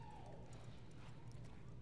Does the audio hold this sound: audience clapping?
no